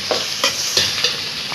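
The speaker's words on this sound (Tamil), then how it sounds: "கருவேப்பிலை போட்டு நல்லா வதக்கிக்கோங்க." Curry leaves stirred and sautéed in hot oil for a Tamil fish curry, steady frying sizzle with four sharper scraping stirs at an even pace, close and clear, no talking.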